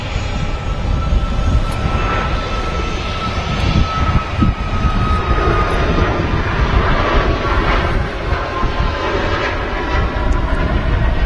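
Boeing 737 MAX jet engines thrusting at Manchester Airport, a loud, steady roar that holds for the whole stretch, close by and alone.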